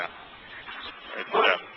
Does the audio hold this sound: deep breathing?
no